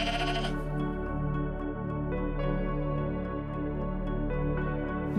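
Several ewes bleat almost continuously on a farm, loud and close, with overlapping sustained calls of different pitches and no talking.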